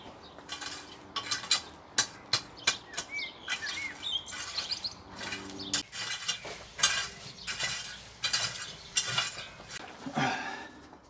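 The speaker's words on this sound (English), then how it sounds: "Now I'll get a good rake." A garden rake drags through very dry soil in a UK allotment greenhouse, making a series of sharp scraping strokes at an irregular rhythm, with birds chirping in the background.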